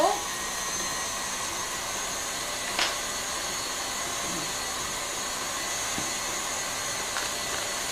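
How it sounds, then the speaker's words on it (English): An electric mixer runs at full speed whisking brownie mixture, giving a steady, even motor whir that holds throughout at moderate volume with no talking. "Right, so we're going to whisk this back up."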